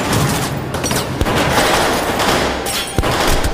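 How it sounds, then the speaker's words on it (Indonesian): Gunfire in a gangster action film: a few sharp, loud shots cut through a dense, noisy action soundtrack, with distinct cracks standing out near the middle and end. "Big C dan Po datang dari arah belakang dan menembak orang yang menodongkan beceng ke kepala Ren"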